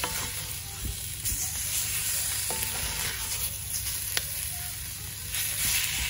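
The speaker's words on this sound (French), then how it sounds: "je mélange pour que mon curry se mette bien partout, sur tous mes morceaux" Pork pieces with curry are stirred while frying in a pan, giving a steady close sizzle with spoon scrapes and light knocks and no talking.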